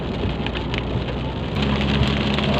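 Steady heavy rain falls during a drive, a dense continuous hiss that stays loud and close. A low rumble from the moving vehicle runs underneath, and no one speaks.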